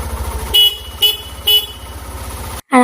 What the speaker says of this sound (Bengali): পাপার বাইকে বসবে আর হর্ন বাজাবে না